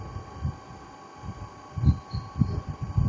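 A DC motor coupled to a compound generator runs at 1500 RPM, giving a steady low electrical hum with a soft rhythmic throb beneath it, continuous and moderately quiet.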